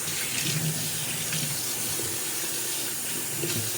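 Tap water runs steadily as a beef brisket is rinsed off in a sink, a close, even rush of water with no voices.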